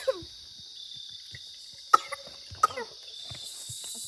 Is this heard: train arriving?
no